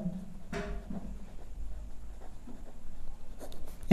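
Marker or chalk writing on a board during a class 9 maths problem, heard as a few brief scratchy strokes at close range over a low steady hum, with no talking.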